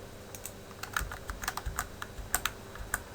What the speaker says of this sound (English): I'm going to use my arrow keys on my keyboard